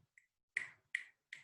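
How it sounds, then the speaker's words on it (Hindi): Three sharp, crisp finger snaps ring out close by at a steady pace, with a faint softer snap first. "मुंह के आगे चुटकी बजा"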